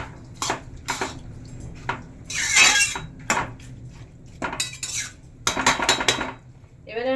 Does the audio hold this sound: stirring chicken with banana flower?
yes